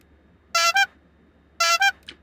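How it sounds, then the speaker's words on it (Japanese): An AI-generated car horn sound effect gives a quick double-pulse honk, then after a pause the same short honk sounds again, loud against a quiet background. "パフというようなクラクション音ってありますよね。"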